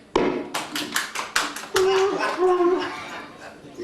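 A few people in a small convention Q&A crowd clap in sparse, scattered bursts for about a second and a half, followed by someone speaking.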